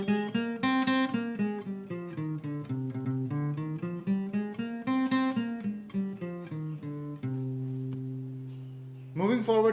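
A guitar runs through a minor scale on the third and second strings, one clear note after another at a steady pace, the last note held and ringing before a brief louder strum at the end.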